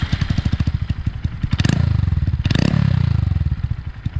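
Honda Monkey motorcycle fitted with an OverRacing titanium exhaust passing close by, its single-cylinder engine thumping in a rapid pulsing beat that swells loud as it revs past, then eases off.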